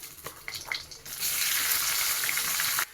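Onion dropped into hot oil with mustard seeds and dried red chilli, bursting into a loud, steady sizzle after a second of quieter clatter, with no voice over it.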